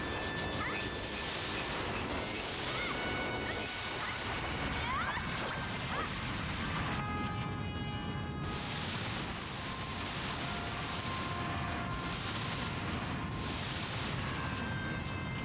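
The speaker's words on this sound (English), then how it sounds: "this thing is shooting its death ray with a great frequency" An enemy in an Ocarina of Time randomizer game fires its death ray again and again, with dense, loud blasting bursts recurring every second or so over busy game noise.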